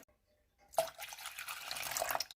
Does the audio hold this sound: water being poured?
yes